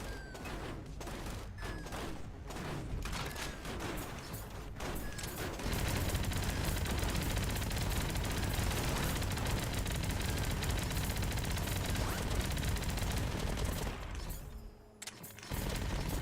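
A minigun firing in a tower defense roguelite game, a long, loud, unbroken stream of rapid shots that runs for many seconds, briefly dipping near the end before resuming.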